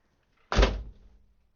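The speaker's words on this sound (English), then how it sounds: "Door shuts fine." An MG TF sports car door, fitted with a new lock and chrome handle, swings shut with a single solid close-range thunk that quickly dies away into quiet.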